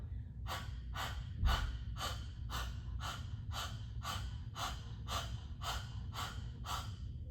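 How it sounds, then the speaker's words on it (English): Breath of fire in a kundalini yoga practice: about a dozen rapid, forceful breaths panted through the mouth in an even rhythm, close and clear over a faint low hum. "I'm going to stick my tongue out as if I was panting like a dog."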